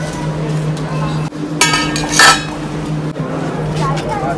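Metal pots and utensils clink and clatter while being handled on shelves in a D-Mart store in Nashik, a few bright knocks over a steady store hum, with people talking nearby.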